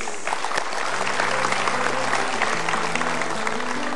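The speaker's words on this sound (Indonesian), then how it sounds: "Baik, kita berikan tepuk tangan, kami lock jawabannya." Sustained applause from a studio audience on an Indonesian motivational talk show, dense and steady throughout, with a faint musical tone sounding underneath.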